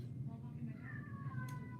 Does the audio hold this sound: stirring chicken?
no